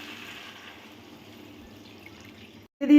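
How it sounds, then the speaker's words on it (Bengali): Water is poured into a pot of chicken curry as a steady, soft, close trickle that cuts off abruptly near the end before a brief louder clatter. "দিয়ে দিলাম জল"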